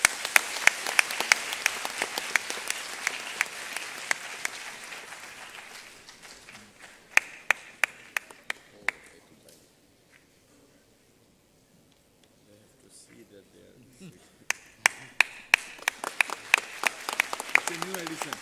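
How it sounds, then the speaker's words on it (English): An audience at an inaugural function claps in scattered, uneven bursts that fade into near silence midway, then pick up again toward the end, faint and roomy. "Please give a round of applause."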